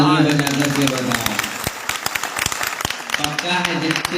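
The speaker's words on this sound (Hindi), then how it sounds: "लगा हो तो तालियां बजा करके बताओ।" Audience applause at a Jain scripture discourse hall, a steady wash of many hands clapping under a sustained voice, with loud sharp claps scattered through the middle and continuing to the end.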